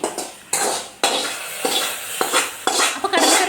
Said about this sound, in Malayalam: നമുക്ക് കറിയിലേക്ക് അങ്ങോട്ട് താളിച്ചൊഴിക്കേ